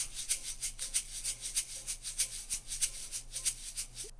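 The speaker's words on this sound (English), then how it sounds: "And then we have the shaker loop that comes in near the end here." A soft shaker loop in a funky Y2K Jet Set Radio-style beat swishes in a steady, even rhythm, quiet and repetitive with no voices.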